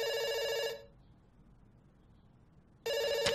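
Two bursts of a ringing telephone bell, one at the start and one at the end, with a quiet gap between them, heard during a heist video game.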